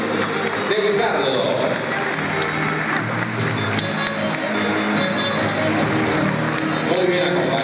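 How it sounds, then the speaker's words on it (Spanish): An audience claps and cheers at a rural flower festival event in Herrera, a dense sustained applause filling the whole stretch with crowd noise and a voice over it. "Vamos con el aplauso entonces."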